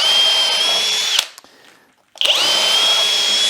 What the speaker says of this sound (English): So I'm just going to pre-drill